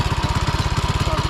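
Motorbike engine idling after a chain sprocket repair, a steady rapid low thumping pulse heard up close and alone.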